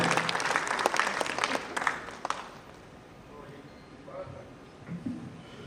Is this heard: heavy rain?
no